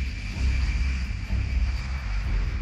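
Airplane engine roaring steadily through a takeoff run, a loud continuous drone with deep low rumble and a hissing upper layer, close and sustained throughout.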